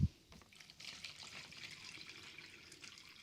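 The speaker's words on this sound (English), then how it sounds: "let's pour some warm water in here" Warm water pours into a container for soaking rust-covered old tools, a faint, soft trickling splash that runs steadily for a few seconds after a small thump at the start.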